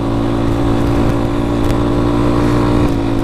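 A Honda Grom motorcycle, silencer still fitted, rides along in second gear at high revs, its exhaust a steady, continuous engine drone throughout without pauses.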